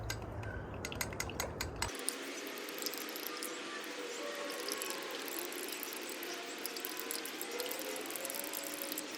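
Spoon stirring powder into a container of water to dissolve it, a steady rattling swirl with a few sharp clinks at the start.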